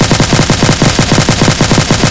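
Rapid automatic gunfire from a dual-barrel weapon in a Blue Archive game addon, a loud, dense burst of evenly spaced shots rattling continuously without pause.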